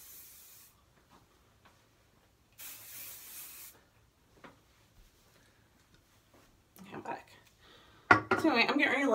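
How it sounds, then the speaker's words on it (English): Short hissing bursts of aerosol hairspray, with quiet pauses between them, then louder rustling and handling noise at the end. "spray my hair, so just hold tight."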